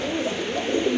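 Pigeons kept for sale cooing close by, a short soft throaty warble lasting about a second against a light background.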